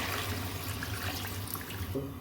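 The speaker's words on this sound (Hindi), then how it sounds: "अब यहाँ पे मैं इसमें पानी ऐड करूँगी।" Water poured into a cooking pot for chicken pulao with rice, a steady close splashing and rushing flow running throughout with no talk over it.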